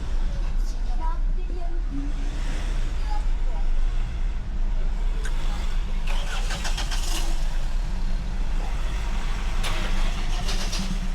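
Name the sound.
Ford Ranger Wildtrak engine driving off-road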